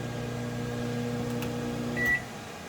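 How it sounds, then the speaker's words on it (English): Cooling fan of an EcoFlow Delta power station, a steady close whirring hum with a tonal drone, running alone at even loudness. "And you can hear the fan."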